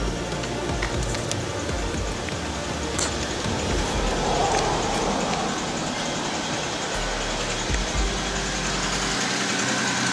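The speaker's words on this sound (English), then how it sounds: "Got this engine running. It's not missing anymore." A Saturn Vue with a 2.2 engine, which had been misfiring, idles steadily with a constant broadband rumble and hum throughout, heard close up with no talking.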